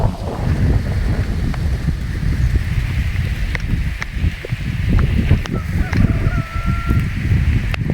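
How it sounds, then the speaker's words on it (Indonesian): Strong wind gusting across a rural hillside village by a rubber plantation in the dry season, a steady loud low roar buffeting the microphone, with scattered knocks and faint voices underneath. "Anginnya sangat gede sekali teman-teman ya."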